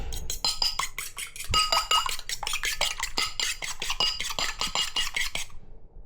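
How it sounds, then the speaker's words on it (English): An egg is whisked in a bowl with a utensil, making quick, rhythmic clinks and scrapes against the bowl for about five seconds that stop abruptly. "We'll just crack one egg into a bowl and whisk it around."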